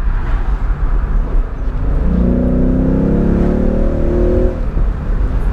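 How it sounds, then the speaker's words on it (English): Stock-exhaust V8 of a 2017 Ford Mustang GT California Special convertible, a steady loud engine drone from inside the car with a rising rev swell partway through, then easing back. "This is a brand new 2017 GT, stock exhaust."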